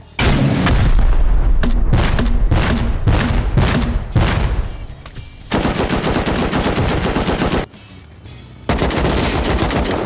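Loud rocket explosions and heavy gunfire in the survival game Rust, a dense run of close blasts and rapid shots, with a short lull before more booming fire.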